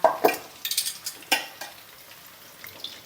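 Chicken frames fry in oil in a pan over medium heat, with a soft sizzle beneath a handful of sharp scrapes and clanks of a utensil in the first half, then a quieter hiss.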